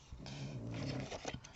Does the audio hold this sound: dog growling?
yes